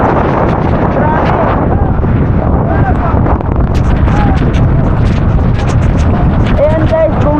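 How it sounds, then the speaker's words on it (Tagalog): Strong storm wind roars steadily and loudly right against the microphone, gusting throughout with occasional faint voices beneath it. "Malakas na hangin."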